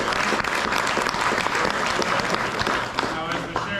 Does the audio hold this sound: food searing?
no